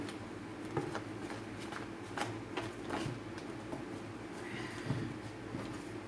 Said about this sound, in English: let's give the cards a quick shuffle